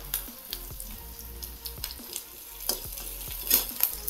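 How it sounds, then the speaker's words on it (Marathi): Chopped onion and curry leaves frying in oil in a pan, a continuous close sizzle punctuated by regular spatula taps and scrapes against the pan. "असं थोडंसं मिक्स झालं की कढीपत्ता टाकून घ्यायचा।"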